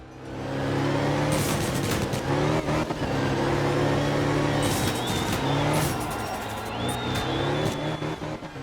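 A rally car engine in the video game Art of Rally drones and revs through gear changes, its pitch climbing and dropping repeatedly, with a few sharp crackles over the engine note.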